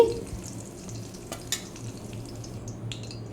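Green chillies fry in hot oil in a home kitchen, a steady soft sizzle with a few sharper crackles and light stirring scrapes against the pan, close up and with no talking.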